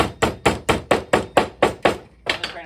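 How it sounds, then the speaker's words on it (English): Wooden pegs are driven into a round wooden puzzle piece held against a table, giving about nine sharp, evenly spaced hammer blows up close, a short pause, then two more quick strikes. "place the round piece against the table, and hammer down into it, rather than trying to put it on top"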